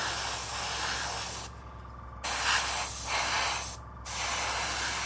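A 0.3 airbrush spraying MRP Aqua paint in close hissing bursts: two long sprays separated by brief pauses, then a third spray starting.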